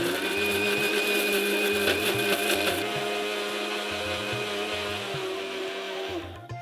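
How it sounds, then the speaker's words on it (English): A kitchen grinder whirs steadily, blending cooled red Mughlai masala into a fine paste, a loud continuous motor drone with rhythmic pulsing from the jar, slowing and winding down at the end. "So we'll wait for this to cool down and grind this to a fine paste."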